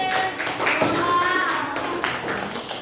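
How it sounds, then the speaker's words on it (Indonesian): Classroom applause from a group of students, a dense patter of hand claps running steadily throughout with some talk mixed in. "Tepuk tangan semuanya."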